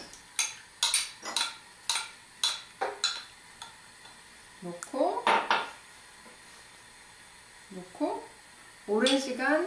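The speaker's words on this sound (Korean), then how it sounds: "타지 않게 이렇게 저으시면 돼요" A spoon stirs ginger juice and sugar in a pot, making repeated clinks and scrapes against the pot with a speaking voice over part of it.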